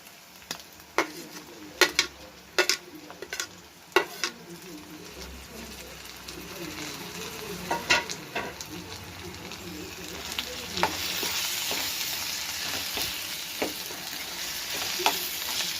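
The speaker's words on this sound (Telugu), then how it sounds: "ఇప్పుడు టమోటాలు వేసుకోవాలండి" Tomatoes go into a curry pan and get stirred and mashed with a ladle: sharp metallic scrapes and knocks against the pan over a low sizzle that grows louder and hissier toward the end.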